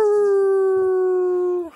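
A dog howls in one long, steady, sustained note close by, sliding slightly downward before fading out at the end.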